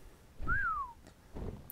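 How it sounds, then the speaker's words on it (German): A single whistled command for a Tapiara creature in the video game Ark: Survival Evolved gives one clear rising-then-falling tone. Soft rustling noise and faint thumps follow it. "dann muss man halt diesen Pfeifbefehl geben, dass er zu einer bestimmten Stelle fliegen soll"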